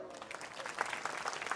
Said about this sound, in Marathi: टाळी वाजवा